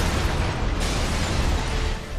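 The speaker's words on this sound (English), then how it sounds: "I guess I follow the explosions" Continuous loud roaring explosions from the open-world action game inFAMOUS, a dense sustained rumble with no clear breaks between blasts.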